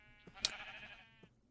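A Minecraft sheep bleats once in a wavering, nasal cry, faint but clear, with soft game ambience around it.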